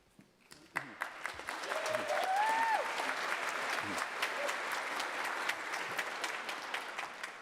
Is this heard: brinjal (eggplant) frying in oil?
no